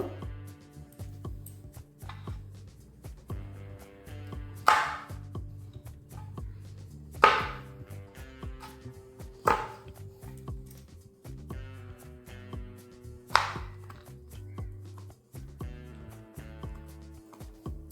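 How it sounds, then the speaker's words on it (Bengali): Almonds being chopped into small pieces with a knife on a board: a few sharp, isolated chops spaced seconds apart over a faint steady background hum. "আমি কিছু আমন্ড নিয়ে নিয়েছি এটাকে একটু ছোট ছোট করে কেটে নেব"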